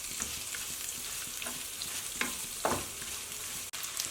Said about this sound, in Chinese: 首先起锅热油，放入准备好的蔬菜，给它炒出香味。